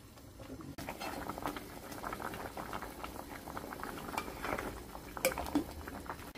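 Seaweed and mushroom soup with perilla seeds at a low boil in a pot, making a soft, steady bubbling patter with occasional faint clinks, quiet and close.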